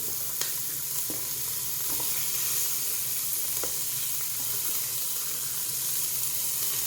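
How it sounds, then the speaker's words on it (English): A large onion sweating in a pan, giving a steady, even hiss of sizzling with a few faint ticks, continuous and moderately loud with no voices. "First we're going to put the onion in and sweat it"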